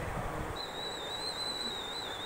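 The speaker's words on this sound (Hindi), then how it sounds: "हमारी सीटी बज गई है कुकर की" A kitchen pressure cooker whistles while steaming sour rice and urad dal dhokla. A steady, shrill tone starts after half a second and holds unbroken over a soft hiss, with no voices.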